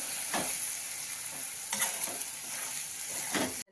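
Green chillies fry in spiced yogurt and oil with a steady close sizzle, broken by a few scraping stirs of a spoon against the pan, with no voices.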